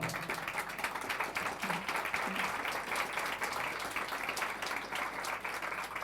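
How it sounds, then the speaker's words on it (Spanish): A congregation applauds the Lord during a church sermon, steady sustained clapping from a crowd of many hands, moderately loud with a faint voice beneath. "déle ese aplauso al Señor"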